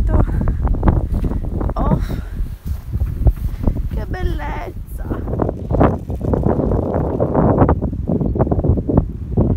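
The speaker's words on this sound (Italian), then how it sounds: "che vento!" Strong wind buffets the microphone with a deep, continuous rumble while people talk over it, outdoors in snowy Rome.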